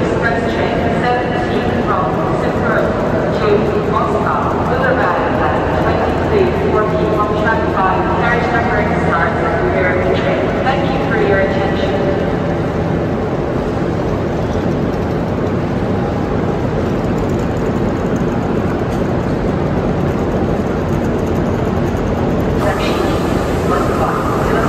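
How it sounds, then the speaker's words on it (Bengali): A train bound for Kazan pulls into a station in Russia, giving a continuous loud rumble and broadband roar throughout with no clear breaks. "আমাদের কাজান যাওয়ার ট্রেন চলে আসছে।"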